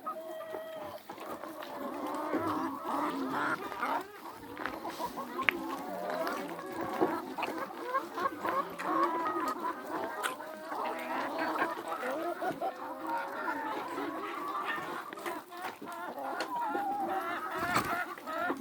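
Chickens cluck steadily throughout, several birds overlapping in a busy, close coop chorus on a free-range chicken farm, with a few sharper calls rising above the chatter.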